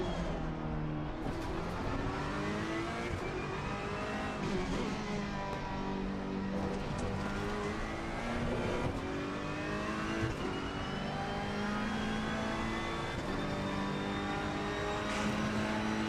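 A Ferrari 488 GT3 Evo race car laps Indianapolis, its engine droning steadily with rising and falling revs through gear changes, heard continuously from onboard.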